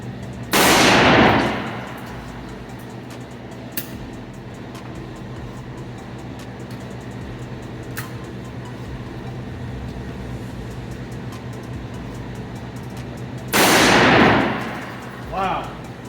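A customized Pardner shotgun fires double lock buckshot outdoors, two loud blasts with short rumbling decays, spaced far apart over a quiet, faintly noisy background.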